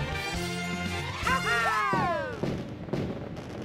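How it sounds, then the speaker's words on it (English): Fireworks in the video game Super Mario 3D World, several booming bursts with whistling rising tones at moderate loudness after a short musical jingle. "fireworks."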